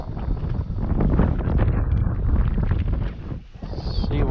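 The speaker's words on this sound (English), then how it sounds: "We got the wind in our face." Strong wind buffets the microphone on a fishing boat out on Mark Twain Lake, a loud, continuous roaring rush that briefly dips before surging again, with no clear speech over it.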